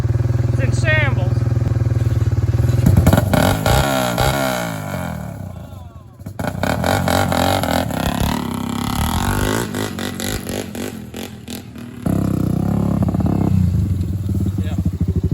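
A Honda 400EX ATV engine revs hard and loud in repeated bursts, rising and dropping through the throttle with harsh mechanical clatter. Voices talk intermittently over the engine.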